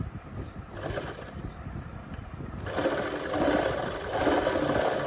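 A sewing machine stitches a garment shoulder seam near the neckline in a short, steady mechanical whir that grows louder partway through, with rattling needle action and no talk.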